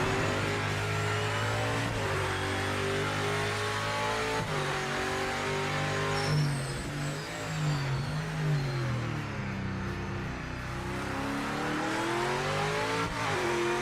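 Race car engines in the sim racing game Project Motor Racing, revving and shifting continuously up and down through gears, with loud, close engine whine and brief tire squeal throughout.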